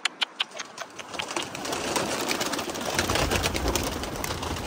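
Pet pigeons in a loft flap and shuffle, starting with a few sharp wing claps and building into a busy, close flutter and rustle of many birds, with soft cooing mixed in.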